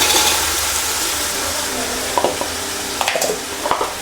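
Onions for chicken chilli are tipped into a hot pan and sizzle steadily, with a few clinks and scrapes of stirring toward the end.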